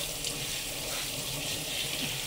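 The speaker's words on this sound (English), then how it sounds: "Rinse my hand so I can put it back in." Kitchen water tap running steadily while a hand is rinsed under it, a continuous close hiss of flowing water with no talking.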